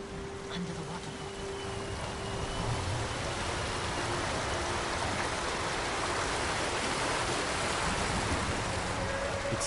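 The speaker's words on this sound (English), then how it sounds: "Under the waterfall." Waterfall in the Ghost of Tsushima game, a dense, steady rushing roar of falling water, close and loud throughout, with a faint tonal hum underneath.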